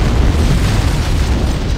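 An antimatter charge in the Halo video game goes off as a loud, sustained rumbling blast with heavy low-end roar and no voices.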